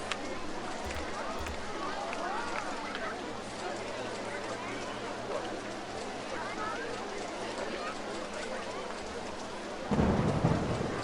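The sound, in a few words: thunder sound effect in OpenRCT2 video game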